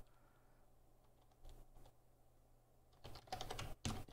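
Quiet bursts of typing on a computer keyboard, scattered soft keystrokes at first and then a faster, louder flurry of clicks near the end, close by in a quiet room.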